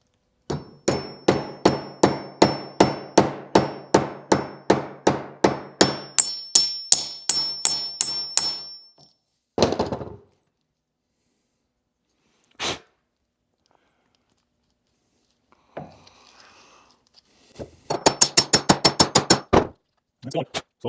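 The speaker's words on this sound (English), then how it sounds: "I'll take the other bearing on top here. I'm gonna take my hammer." A hammer strikes a bearing down onto a helical cutterhead from a Makita hand planer, first in a long, steady run of close metallic taps, then a few scattered knocks, and finally another quick burst of blows.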